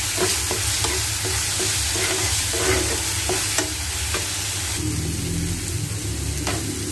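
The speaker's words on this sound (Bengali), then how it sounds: "ভালো করে কষিয়ে একটু জল দিয়ে দেব।" Egg masala sautéing in a pan gives a loud, steady sizzle and frying hiss, with repeated scraping stir strokes of a spatula and no talking.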